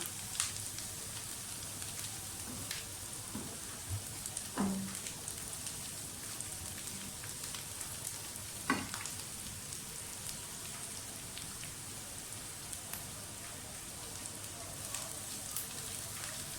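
Ingredients for homemade pizza sauce frying in a pan, a faint, steady fine crackle like light rain with a few sharper pops scattered through, heard alone without talk.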